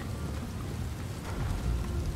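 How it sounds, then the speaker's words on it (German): Steady rain in the video game Desperados 3 pours down with a dense patter and low rumbling underneath, continuous and fairly quiet, with no voices. "Weil es auch so regnet ist."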